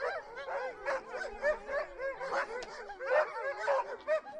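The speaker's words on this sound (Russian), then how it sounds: "Собаки, почуяв приближение охотников, лаяли, выли, наполняли лес несмолкаемым гомоном" Hunting dogs in a forest, alerted by approaching hunters, barking, yipping and whimpering in a continuous excited chorus that carries at moderate distance.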